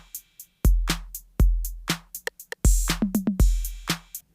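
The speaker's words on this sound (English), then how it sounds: "I have an 808 drum loop that sounds like this." A basic 808 drum loop with booming kicks, snappy snares and quick ticking hi-hats in a loose, syncopated groove, close and clean, including a short burst of rapid hits near the middle.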